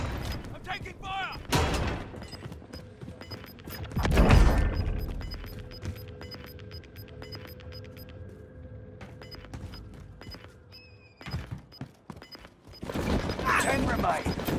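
Gunfire in Call of Duty Warzone (Rebirth): a run of sharp shots with a heavy impact boom, then spaced single cracks under a steady hum, with a game voice talking at the start and end.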